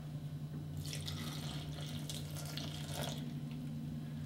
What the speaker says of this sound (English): This is 1 1/3 cups of water.